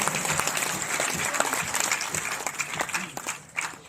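An audience claps at a talent award ceremony hosted by a foundation at an institute, sustained hall applause with a voice talking over it.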